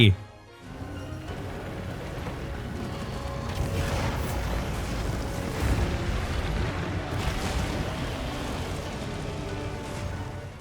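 Gogmazios spews lava in the Monster Hunter game, a sustained rumbling eruption with bursts and booms, playing under continuous talking.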